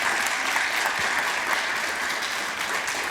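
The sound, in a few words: audience round of applause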